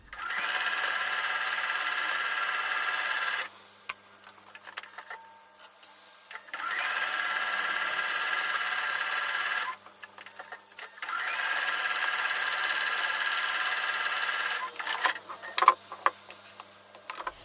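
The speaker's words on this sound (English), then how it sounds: "I'm going to take those 3 to the sewing machine and sew with a 1/4 inch seam." A sewing machine stitches quilt block pieces with a quarter-inch seam, running in three steady bursts of a few seconds each, with short quiet pauses and light handling clicks between the runs.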